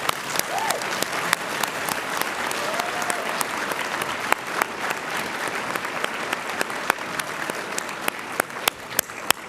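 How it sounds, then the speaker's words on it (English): An audience at a nursing white coat ceremony gives a long, full round of applause, dense clapping with scattered louder claps up close and a brief cheer or voice rising early on. "let's give them all one more big round of applause"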